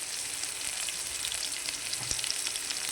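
Cumin seeds sizzle and crackle steadily in hot oil in a pan while tempering for a sirukeerai dish. The frying hiss is soft and even, with no voices.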